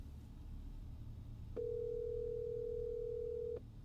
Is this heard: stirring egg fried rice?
no